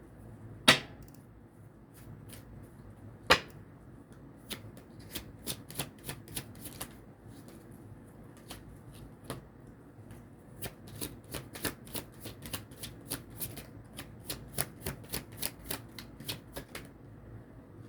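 A tarot deck shuffled by hand for a five-card spread, sharp separate card slaps and flicks, two loud early ones, then a quickening patter of lighter snaps, close and with no voices.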